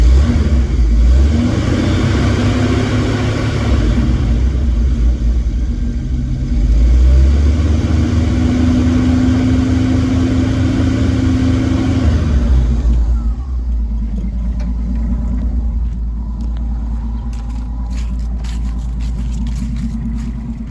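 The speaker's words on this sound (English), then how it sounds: "rev it up a little bit" A car engine is revved during a battery charging test, loud and close, rising in two sustained revs that settle back to a steady idle, then drop to a quieter running hum.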